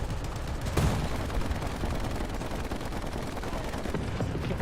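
Cannon fire from a gun tank in the War Thunder video game: a sharp blast lands early, then dense, rumbling battle noise and crackling gunfire continue loudly throughout.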